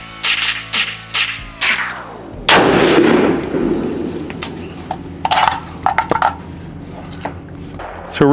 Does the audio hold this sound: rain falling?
no